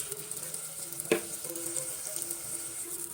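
Spiced masala paste of tomato, garlic, ginger, green chili and onion sizzling in a pan for restaurant-style dal mash, a steady close hiss with one sharp clink of a spoon against the pan.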